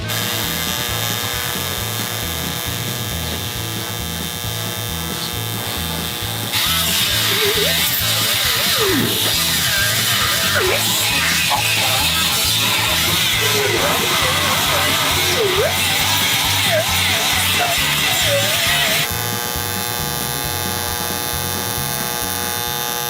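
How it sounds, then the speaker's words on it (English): Welding on the Hoonicorn car body makes a steady crackling buzz for about twelve seconds over a constant electrical hum, and someone speaks briefly beforehand. "I'm gonna put a little bit more of a weld down on the bottom, but this whole thing is welded."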